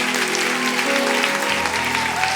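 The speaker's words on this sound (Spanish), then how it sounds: "Dale un fuerte aplauso y bendice su nombre." Loud applause from a church congregation fills the space for a couple of seconds, steady and dense, with sustained organ or music tones underneath.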